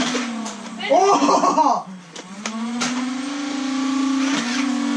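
A Nerf blaster's flywheels rev up during a backyard Nerf war, a steady rising motor whine that holds for several seconds after a loud shouted exclamation from a player.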